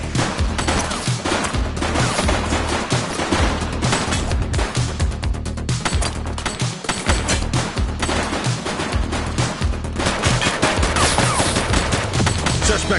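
A suspect opening fire in The Precinct game as loud, dense automatic bursts run continuously over several seconds with little pause, and a voice occasionally cuts through underneath.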